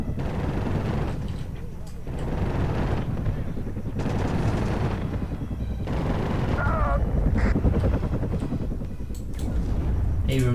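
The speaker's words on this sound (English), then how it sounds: "Abrams smoking off as the ATGM from the Metis comes in" In the WARNO war game, a Metis anti-tank guided missile strikes an Abrams tank amid continuous rumbling battle noise, with rolling gunfire and explosive bursts throughout.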